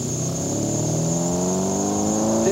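A 1968 Dodge Charger in a Pony Express road race, engine revving and climbing steadily in pitch under a constant high whine, loud and close, with no talk.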